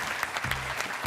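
A studio audience on the French game show Les 12 Coups de Midi claps for contestant Cyril in a short, steady burst of applause.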